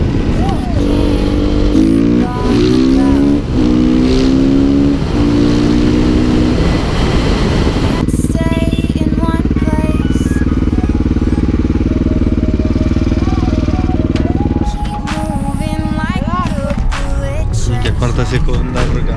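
Motorcycle engine running loud and steady as the rider sets off, pitch rising through gear changes, with people talking over it near the start.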